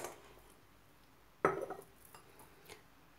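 Soaked dried chickpeas and beans tip into a metal pressure cooker pot with a single clattering, rattling pour, followed by a few faint clinks in a quiet kitchen.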